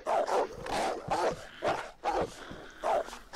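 Wolves in the DayZ video game bark and growl in a rapid series of rough, close bursts, loud and repeated with brief gaps.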